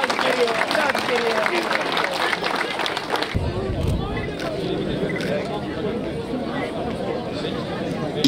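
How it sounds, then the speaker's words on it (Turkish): A crowd applauds athletes at a water sports festival with canoe races: brisk, dense clapping for about three seconds, then it gives way to a lower outdoor murmur of crowd chatter and movement. "güçlü bir alkış daha rica ediyorum sporcularımıza"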